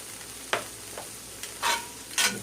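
Seasoned chicken wing filling is stirred in a hot pan, giving a few separate scraping, sizzling strokes over a low frying hiss, with no talk.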